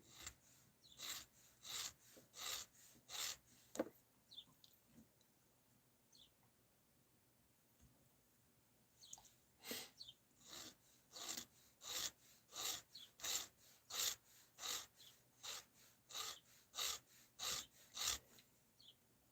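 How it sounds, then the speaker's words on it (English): Steady back-and-forth rasping of a hand file on wood, in rhythmic bursts of strokes with a short pause midway, close and moderately loud. "Nick, I'm not sanding today. I'm filing"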